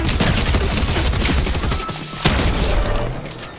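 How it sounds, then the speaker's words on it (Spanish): Dense, rapid gunfire in Fortnite crackles almost nonstop, with a short lull before more bursts and booming shots, loud and close. "Aquí hay tiros."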